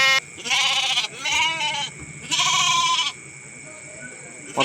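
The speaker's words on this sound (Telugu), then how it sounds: "ఇందులో ఒక మేక ఉంది మళ్ళీ ఇది నల్ల కనపడుతుంది చూసారు ఇది మేక మిగతాయి మొత్తం అన్ని గొర్రె పిల్లలే" Lambs and a goat bleat in a few loud, drawn-out calls close by while being loaded for transport, with short pauses between cries.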